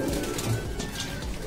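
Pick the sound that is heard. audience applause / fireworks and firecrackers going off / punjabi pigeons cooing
punjabi pigeons cooing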